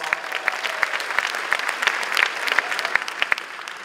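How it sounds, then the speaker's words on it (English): Steady applause from a high school commencement crowd in 2019, many hands clapping together with a few sharp, rhythmic individual claps standing out close by over the general patter. "give them a round of applause."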